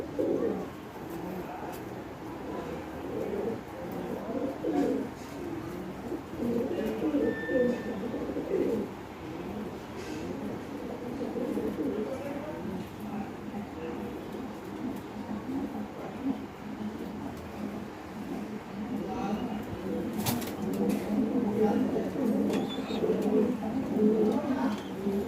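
A pair of white pet pigeons sit on their eggs among a home flock, with continuous throaty cooing rolling on and off in overlapping bouts and a soft background hum.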